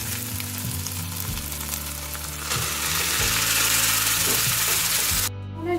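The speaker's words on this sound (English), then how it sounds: "And now into this I'm going to put this boiled Maggi." Boiled Maggi noodles land in a hot pan with Schezwan sauce, setting off a loud, steady sizzle with scraping and stirring clatter. Close frying noise swells midway and cuts off abruptly near the end.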